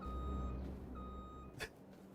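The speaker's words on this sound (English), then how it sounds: "It actually played the beeping noise." Vehicle reversing alarm in Farming Simulator 25 on the BR-163 map in Brazil, two evenly spaced steady beeps over a low engine rumble, followed by a brief hiss.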